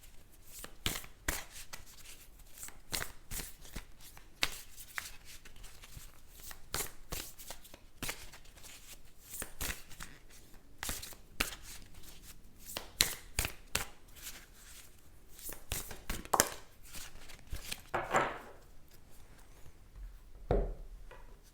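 A tarot card deck is shuffled repeatedly, its riffles and flicks forming a steady, close, crisp stream of papery slaps that carries on for about twenty seconds with no talking.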